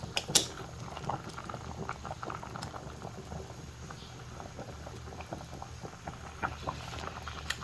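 Sinigang na tuna soup boils in a pot, a dense close bubbling and popping patter that stays steady and fairly quiet throughout, with no voices.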